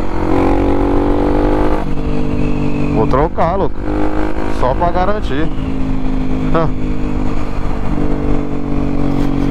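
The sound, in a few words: Honda XRE 299cc motorcycle engine revving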